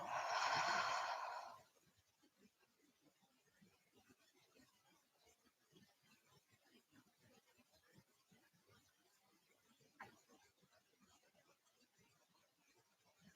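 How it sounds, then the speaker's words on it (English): A deep breath out through the mouth during a home yoga session, one strong breathy exhale in the first two seconds, then near silence with faint rustling and one soft sound later on. "Take a deep breath in through your nose"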